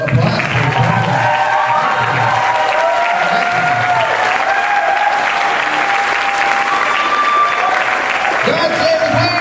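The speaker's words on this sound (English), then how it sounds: "Can we get a round of applause for" Loud, sustained applause from the audience at a costume contest, many hands clapping continuously, with voices and cheers mixed in throughout.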